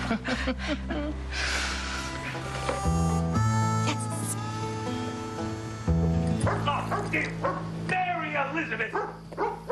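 A family dog barks several times in a household, sharp yaps over a busy mix of loud music and people talking and shouting nearby.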